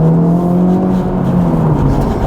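Acura Integra Type S taking a corner, its engine a steady loud hum with a slowly shifting tone, heard from inside the car, no voices.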